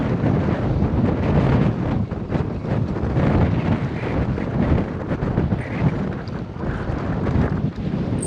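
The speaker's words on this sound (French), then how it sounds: "ah c'est dingue le vent qu'il y a" Strong wind buffets the microphone outdoors during an electric scooter ride over rough, rocky ground, producing a loud, continuous roar with gusty surges and no speech.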